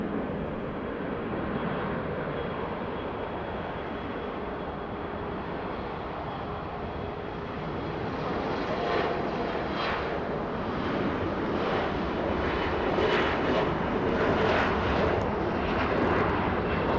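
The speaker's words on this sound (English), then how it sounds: "Little E-175 beginning that takeoff roll." An Embraer E175 jet starts its takeoff roll at Los Angeles, a broad roaring engine rush that swells and grows louder over many seconds, heard from a distance without talk.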